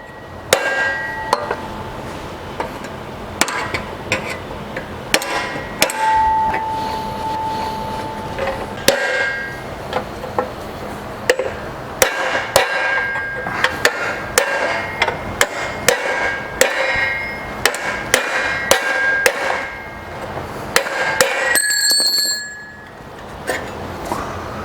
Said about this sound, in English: that's going to take a little extra hammering maybe